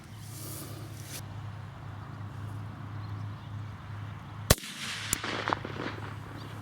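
A single sharp, loud crack from a hunting rifle fired across heavy grass, a sudden report with a short rumble after it, then a couple of faint clicks and bumps against steady low background hum.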